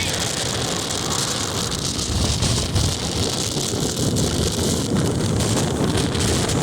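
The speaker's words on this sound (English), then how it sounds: "It's so windy and so cold." Strong, cold Antarctic wind roars and buffets the microphone continuously, a loud, rough rushing with no letup.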